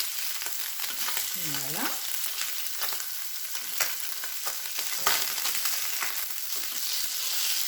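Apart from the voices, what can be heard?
fish frying in a pan, browning each side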